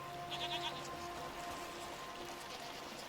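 A herd of goats bleats in the video game SEASON: A Letter to the Future, one brief wavering call early on, then fainter distant bleats over a continuous rain-like patter and low droning hum.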